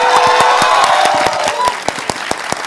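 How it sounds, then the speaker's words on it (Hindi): Loud, dense applause from an audience of children clapping hard, a continuous close roar of many hands with some sharper individual claps standing out near the end. "ऐसे ताली बजा रहा है और पूरी ताकत के साथ ताली बजा रहा है"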